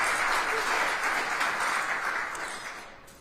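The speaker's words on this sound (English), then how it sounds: "Yes, we can clap for that." An audience at a city's State of the City address applauds a renovated fire station, giving a steady, dense wash of clapping that holds for a few seconds and then begins to taper.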